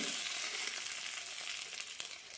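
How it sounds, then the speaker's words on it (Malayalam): Urad dal and curry leaves frying in hot oil for a chutney tempering, a quiet, even hiss of sizzling with a faint crackle, heard alone and up close. "ഇതിലേക്ക് ഒരു കാൽ ടീസ്പൂൺ ഉഴുന്നാണ് ഇടുന്നത് കൂടെ തന്നെ കറിവേപ്പിലയും ഇടാം"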